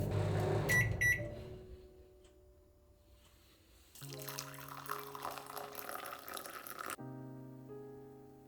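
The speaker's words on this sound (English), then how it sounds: "So I will pop the dough in the microwave for 20 seconds" A few quick beeps sound, then a microwave oven heats cinnamon roll dough for 20 seconds with a steady electric hum that changes tone partway through.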